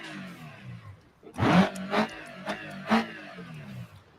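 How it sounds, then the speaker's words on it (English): A Hirachi Sunburst car engine in BeamNG revs in several sharp bursts, each rising quickly then falling back to a low idle, heard up close with the hood open. "Just listen to this engine."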